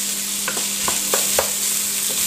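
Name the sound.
potatoes and vegetables sautéing for minestrone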